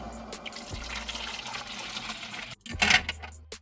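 Boiling water pours and trickles steadily over warped plastic toy X-wing parts, close and moderately quiet. The stream breaks off briefly, then a louder splash follows.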